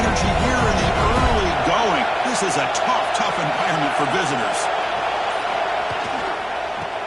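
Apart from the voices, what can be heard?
stadium crowd cheering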